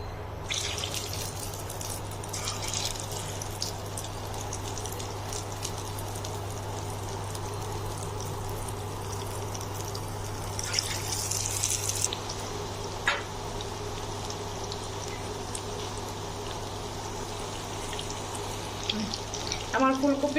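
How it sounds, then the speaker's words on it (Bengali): Egg-coated cauliflower florets deep-frying in a generous amount of hot oil, giving a steady, even sizzle and crackle that runs the whole time, close by, with a few brief clatters and no talk. "এখন আমি ফুলকপিগুলো দিয়ে দেবো ভাজার জন্য। যেহেতু আমি ডিপ ফ্রাই করবো, এজন্য তেলের পরিমাণটা একটু বেশি নিয়েছি।"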